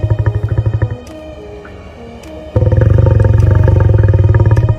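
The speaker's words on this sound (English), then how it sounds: "Number 1, lion." A lion roars in close, loud, rhythmic pulsing bursts. A quieter stretch with tonal sounds comes between the bursts, and then a second long run of grunting roars follows.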